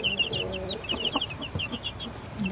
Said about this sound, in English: I've got other bigger chicks here trying to get in there.